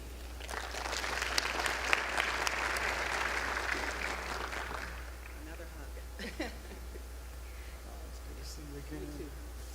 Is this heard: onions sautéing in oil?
no